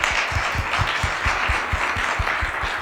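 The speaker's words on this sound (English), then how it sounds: "let's actually maybe give the applause to them and also to yourself" Audience applause at the closing of a panel discussion, a steady wash of many hands clapping that sustains evenly throughout, loud and continuous with rhythmic low thumps beneath.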